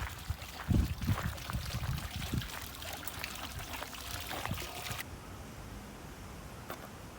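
Water pours and trickles steadily from a small garden waterfall, a continuous splashing rush heard up close with a few louder gurgles early on, then softer and more even.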